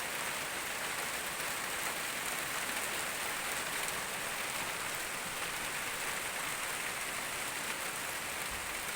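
Steady rain falls on a coffee garden in Thailand, a continuous even hiss of drops with no pauses and no voices.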